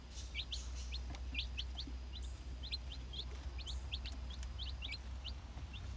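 Small chicks kept outdoors with hens, peeping in rapid high chirps scattered across the whole stretch over a steady low background hum, fairly faint.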